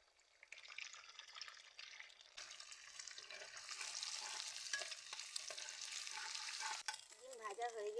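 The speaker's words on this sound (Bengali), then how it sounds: "ডিমগুলো ভেঙে আমি ভেজে নেব" Eggs frying in oil in a pan for chow mein: near-silence at first, then a bright, steady sizzle that swells and holds, ending with a brief voice over the crackle.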